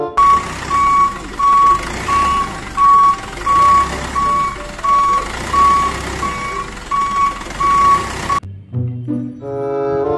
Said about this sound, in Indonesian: ada mobil truk pasir